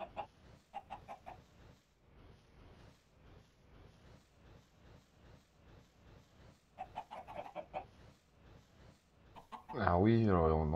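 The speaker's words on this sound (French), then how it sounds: "on entend des poulets à côté" Chickens in a video game cluck in a quick, steady rhythm, with a few louder bursts in between and a loud, drawn-out squawk at the end.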